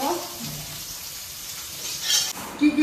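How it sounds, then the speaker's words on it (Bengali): Fish frying in a pan in a home kitchen, a soft steady sizzle running throughout with a brief louder burst and clatter near the end. "এবার মাছ ভাজা বসাবো।"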